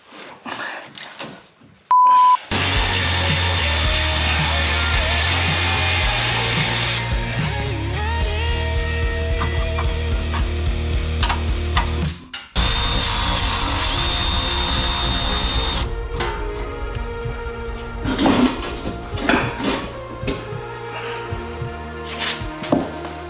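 Power tool driving bolts out of a Jeep roof rack, loud whirring bursts of the drill that run in long stretches and stop briefly, close by with no talk.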